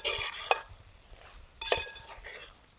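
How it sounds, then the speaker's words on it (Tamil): Chopped tomatoes sauté in a pan for a milk fish curry, with a soft, steady sizzle. Two distinct clinks of a spoon scraping and stirring against the pan stand out above the frying. "தக்காளி வதங்கிட்டே இருக்குங்க."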